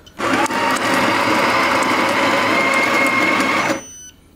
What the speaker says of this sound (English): So how I make that? Espresso.